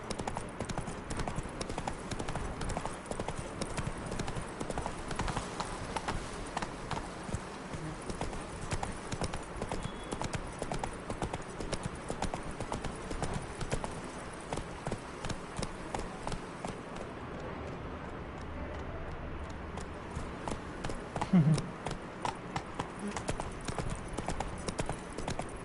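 Galloping hooves of the horse in The Witcher 3 video game, a steady, rapid clip-clop rhythm running throughout with a brief pause near the end, under faint talk.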